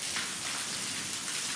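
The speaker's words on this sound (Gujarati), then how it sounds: "વરસાદ શરૂ થઈ ગયો છે મસ્ત મજાનો. કાંટા પડવા માંડ્યા છે હળવું હળવું." Light rain falling steadily outdoors, a soft continuous patter and hiss at even loudness with no voices.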